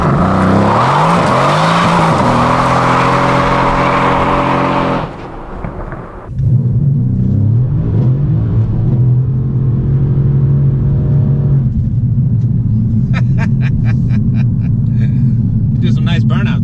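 A 503 hp Mercedes C63 AMG launches with traction control off, its engine revving hard under load, cutting briefly, then roaring again with rising pitch, loud and close, with faint higher chirps or squeals near the end.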